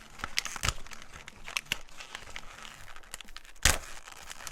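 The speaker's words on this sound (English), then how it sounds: "the packaging for these needles, you can obviously tell they're cheap because I'm having a lot of trouble tearing them" Cheap plastic packaging of tattoo needles being torn and crinkled open by hand, a run of close, sharp crackles and rips with one loud tear near the end, no talking.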